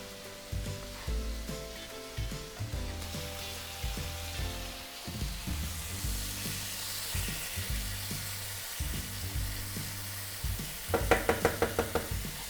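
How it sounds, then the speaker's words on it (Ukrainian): Minced meat for chili con carne sizzles and crackles steadily in a hot pan while a utensil clanks and scrapes repeatedly, with a rapid run of knocks near the end. "поки смажиться фарш, можна на одну половинку якраз викинути овочі"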